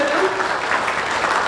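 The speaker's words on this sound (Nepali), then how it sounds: "यो ताली बजाइदिनुहोस् हामी।" Guests clap at a church wedding ceremony after the couple's vows are handed over, a moderate round of clapping in the hall while a voice carries faintly alongside it.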